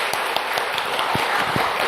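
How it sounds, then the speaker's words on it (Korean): A church congregation claps together in applause, a dense, steady patter of hand claps filling the room at moderate loudness with no voices over it. "영광의 박수를 주님께 돌리십시다"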